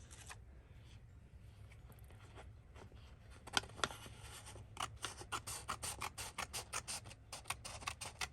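Scissors snip across paper on a double tuck page in a junk journal, a faint, close series of crisp cuts and rustles that grows quicker and more rhythmic toward the end.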